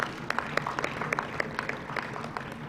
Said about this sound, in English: I want us to give ourselves a big round of applause for staying this long.